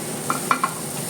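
Garlic hits hot oil already tempered with cumin and red chili powder, giving a steady hiss with a few short crackling pops and no voices.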